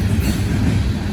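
Giant coal train rolls past on the rails, a loud, close rumble of wheels and wagons with a rough, continuous low roar.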